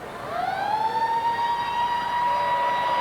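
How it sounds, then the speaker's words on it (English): A siren wails steadily at moderate distance at a rugby league match, its tone rising then holding a sustained pitch, with no voices. "The siren in the background"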